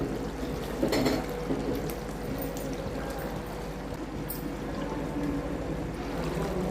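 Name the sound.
egg gravy (kuzhambu) boiling in a pan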